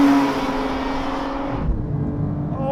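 An Audi race car in a racing video game accelerates hard, its engine whining and rising in pitch, loud and steady with no talk over it.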